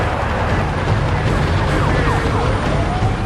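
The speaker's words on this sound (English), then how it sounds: "Finally, the ambulance arrives to rush the victims to the hospital." A wailing ambulance siren sweeps up and down over steady traffic rumble, loud and close, with a constant engine drone underneath.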